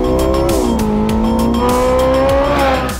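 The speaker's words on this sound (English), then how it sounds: "The Nordschleife trembled under the sound of the 918 Spider." A Porsche 918 Spider, with a 4.6-litre V8 hybrid and electric motors on the front and rear axles, screams loudly around the Nordschleife, its pitch rising and falling through shifts as it passes close by.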